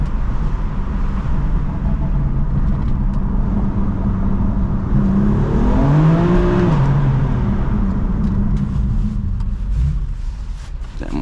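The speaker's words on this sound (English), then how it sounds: "It has the M Performance exhaust, but everything is stock." A BMW F82 M4 Competition with an M Performance exhaust, otherwise stock, drives under a bridge in Chicago. Loud, continuous engine drone swells into a rising and falling rev in the middle of the clip before settling back.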